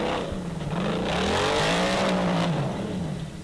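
A Formula Offroad racing vehicle's engine revs hard and roars nearby, its pitch rising and falling steadily for a few seconds, loud and with no talk over it.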